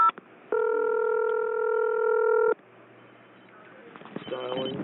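An L.T.E ST-37V hospital telephone dials out: a loud, steady multi-tone dialing signal holds for about two seconds, then drops away to a low hum with faint clicking handset noise near the end.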